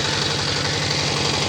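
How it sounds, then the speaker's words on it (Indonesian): An oil palm loose-fruit thresher machine runs with a steady, dense mechanical engine drone and a rapid low knocking pulse, loud and continuous with no talk. "Kita tes mesin kerontok Grondol sawit tujuan Simalungun ya, mesin sawitnya."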